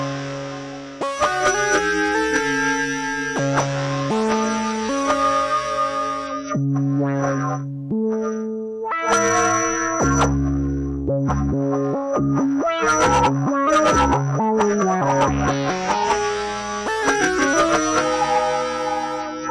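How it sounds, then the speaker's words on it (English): Polyend Mess effects unit running a spectralizer effect on a Moog Matriarch synthesizer, playing shifting layered synth notes and chords with shimmering, metallic high harmonics, loud and continuous with no voices. "So that's the spectralizer. Sounds super cool."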